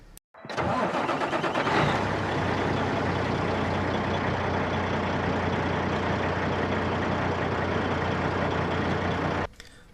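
RC truck engine idling loudly from a camera mounted on the truck, a steady rough buzzing drone with strong vibration that runs nearly ten seconds before cutting off abruptly as the truck rolls forward.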